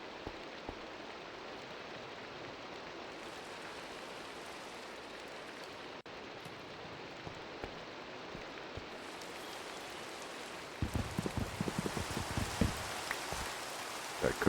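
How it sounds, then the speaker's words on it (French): Steady rain falls in Minecraft, an even wash of hiss holding throughout, with louder, denser droplet patter joining near the end; no one speaks. "C'est la pluie."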